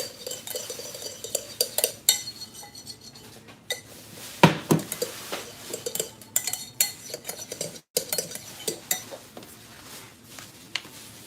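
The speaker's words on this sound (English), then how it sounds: "Give it a good mix" A spoon or whisk clinks and scrapes against a bowl as ingredients are mixed by hand, irregular close-up taps and stirring strokes with brief pauses and no voices.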